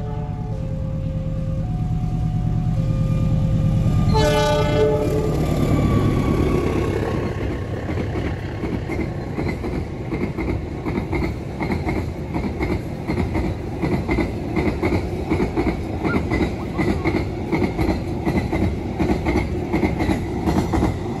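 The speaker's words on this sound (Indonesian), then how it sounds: "yang dibawa adalah kereta api barang" A loud freight train rumbles past close by, with a long horn blast near the start, then steady rhythmic clacking of wheels over the rails.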